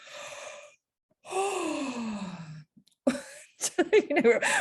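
A man imitates a loud, drawn-out yawn with his voice, a long breathy rising-and-falling groan alone, followed by quick voiced bursts.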